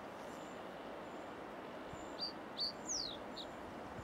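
A blackcap sings on the coastal path around Bray Head near Greystones, giving a few short, sharp, fairly faint notes over a steady low outdoor rumble.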